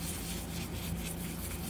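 Folded sandpaper rubbing by hand over knife handle scales, a steady close scratchy friction that runs continuously at low level with no voices.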